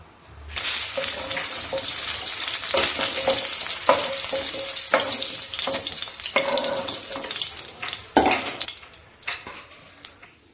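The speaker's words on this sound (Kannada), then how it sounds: "ಎಣ್ಣೆ ಬಿಸಿ ಆಗಿದೆ. ಈ ಹಸಿಮೆಣಸಿನ್ಕಾಯಿನ ಫ್ರೈ ಮಾಡ್ಕೊಳ್ಳೋಣ." Green chillies frying in a tablespoon of hot oil for a village-style avare bele saaru, a continuous close sizzle punctuated by stirring clatter and a few sharper pops and scrapes.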